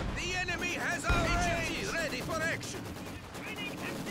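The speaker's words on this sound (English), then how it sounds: "I need the machine guns to stay alive." Machine gun fire on a Company of Heroes 2 battlefield, a dense crackle of distant automatic bursts and explosions mixed with shouted in-game voices, one heavier thump near the start.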